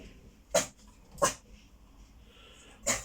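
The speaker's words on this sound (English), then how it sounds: "Sorry about the dogs, lads, making noise right at the end." Dogs close by make three short, sharp whimpering, sneezy yelps, evenly spaced over a quiet room background.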